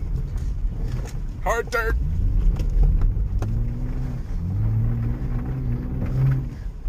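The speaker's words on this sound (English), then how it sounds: "Oh, limiter to third gear burnout." A car engine held at the rev limiter during a third gear burnout, a steady close droning roar with rising and falling pitch and a brief squeal, with someone talking briefly over it.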